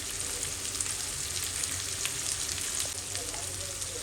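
Onions and pepper powder frying in a pan for mint chicken curry, a steady close sizzle with crackling spatters running throughout and no pauses.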